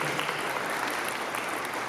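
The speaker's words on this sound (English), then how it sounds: "Can you give a round of applause to Rubina" A panel audience gives a steady round of applause, a dense, even wash of many hands clapping at a moderate distance and fairly soft, with no voices standing out.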